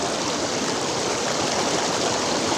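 Fast, cold water rushes down a waterfall stream at a picnic spot, a steady, dense roar that stays loud and continuous throughout with no voices.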